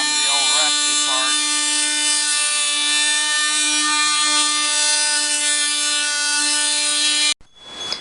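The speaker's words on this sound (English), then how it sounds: "having done all we can with the sander" A power sander grinds on an old rusty part of a tower gye pad, producing a loud, steady whine that holds for about seven seconds and then cuts off, with a voice heard briefly at the start.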